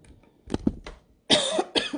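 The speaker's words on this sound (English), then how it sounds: "I got a cough." A few short coughs, then two harsher, louder coughing bursts close to the listener.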